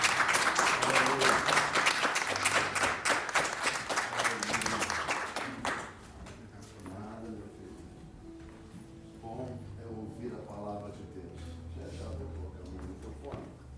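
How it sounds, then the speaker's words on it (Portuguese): A church congregation applauds during a sermon, with loud, full clapping for about six seconds that then stops abruptly, leaving someone speaking alone. "Vamos aplaudir o nosso irmão"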